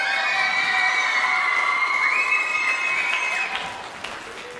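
A school music recital audience of middle and high school students and families applauds and cheers for Mr. Williams, a sustained crowd of clapping and shrill cheers that fades slightly near the end.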